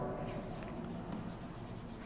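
A lecturer writes notes during a medical microbiology lecture, a steady, faint scratching and rubbing that continues without pause, with no speech over it.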